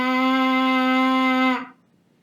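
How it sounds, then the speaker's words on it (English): Steady sustained buzz of lips vibrating on a trumpet mouthpiece, a single held pitch with bright overtones lasting about a second and a half before stopping abruptly. "when we put our lips up to our mouthpieces, then we get a buzz on the mouthpiece."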